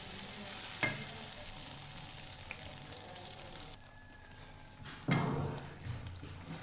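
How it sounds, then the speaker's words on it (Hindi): Chana dal halwa paste frying in plenty of ghee over a low flame, a steady close sizzle with occasional scraping stirs, dropping quieter for a moment before a stir brings the sizzle back. "इसे हल्की आंच पे भूनें।"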